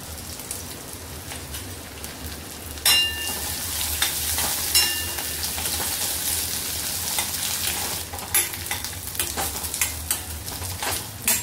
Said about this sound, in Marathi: कांदा आपला फ्राय करून झालेला आहे।